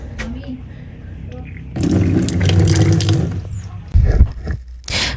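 A campsite sink tap near Lake Tabeo runs in bursts, water splashing loudly into the basin, with talk around the pours.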